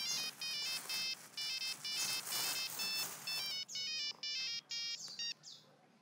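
A mobile phone rings with a bright, repeating electronic ringtone, short melodic bursts following one another for several seconds, clear and moderately loud with no talk over it.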